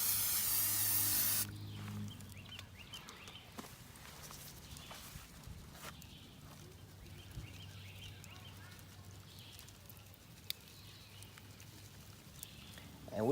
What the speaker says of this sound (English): Give it a little spray on the other side.